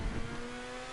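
A Grotti Bestia sports car in the GTA video game revs its engine, a steady droning engine tone held briefly with no talk over it.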